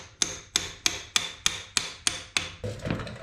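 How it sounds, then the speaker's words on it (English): Eight sharp metallic hammer blows ring out at a steady rhythm, close and loud, as a pin is driven out of the differential carrier on an original Ford 302, then a brief scraping rattle follows. "Don't hit it out too far, because then you can't rotate the carrier around to get the pin out."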